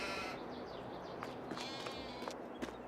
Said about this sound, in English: I love sheep. Sheep are pretty cool.